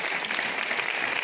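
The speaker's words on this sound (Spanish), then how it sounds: "Un fuerte aplauso para ella." Clapping fills a village festival award ceremony as the crowd applauds Fidela Sánchez Amor, a dense, even burst of many hands at close range with no voices over it.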